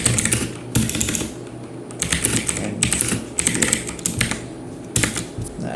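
Computer keyboard typing in bursts of rapid, close clicking keystrokes with short pauses between runs, steady and fairly loud, no voices.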